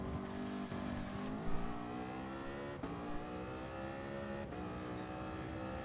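LMP race cars in a sim racing video game drone with steady high-pitched engine whine, revs rising and shifting in a dense, continuous roar with a couple of brief gear-change blips.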